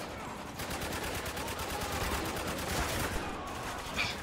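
AK rifle gunfire in the shooter Spec Ops: The Line, a steady run of rapid automatic shots rattling on for several seconds at moderate loudness over a busy battle background.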